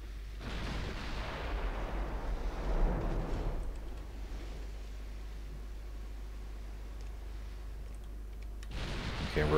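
Naval gunfire in the Ultimate Admiral warship game, a booming salvo swelling early and a second heavy blast near the end over a steady roar of battle noise, with no voices.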